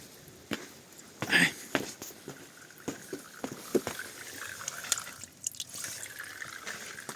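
A small waterfall at the Opaka recreation complex, a steady trickling and splashing of water with scattered drips, moderately close and continuous, with brief bumps and handling noises on top.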